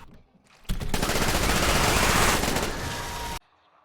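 Hellscream 7.62 assault rifle from Dead Frontier 2 fires one sustained, loud automatic burst of nearly three seconds, with rapid dense shots that cut off abruptly into quiet.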